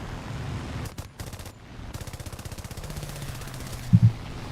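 Rapid machine-gun bursts from an aircraft strafing in the War Thunder combat game, rattling in quick repeated volleys across the clip with a louder thump near the end.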